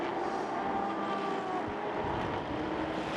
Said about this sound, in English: Now we see the second and third place cars coming out of turn 17.